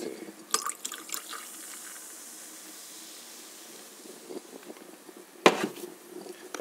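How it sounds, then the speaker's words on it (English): Coffee pours into a glass of raspberry carbonated water in a steady trickling stream, with a few clinks and handling noises at the start and a sharper knock near the end. "you pour this"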